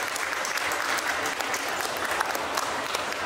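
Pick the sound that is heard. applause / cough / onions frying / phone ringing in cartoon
applause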